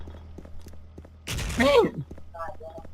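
Gunfire in the Special Force shooting video game, a short loud burst of shots over quiet background clicks, with a person talking over the end of it.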